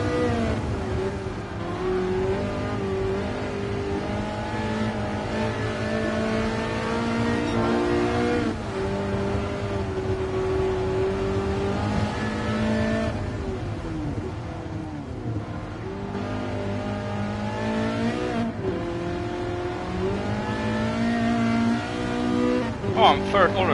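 Ferrari F40 engine in Gran Turismo Sport, revving hard and pulling through gears in a race, a continuous loud roar with pitch climbing and dropping at shifts, plus other cars around it and a voice talking over it.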